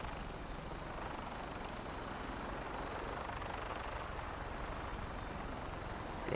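A helicopter in the Fallout 4 video game flies overhead with a continuous, even rotor roar that fills the whole stretch at a constant moderate level.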